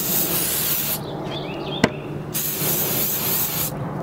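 Epoxy paraffin sealer, Ultra 4, sprayed generously onto a flat silicone prosthetics mold: two long steady hissing aerosol bursts separated by a short pause with a sharp click, close and loud, no talking.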